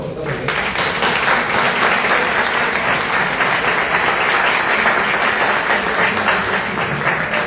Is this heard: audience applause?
yes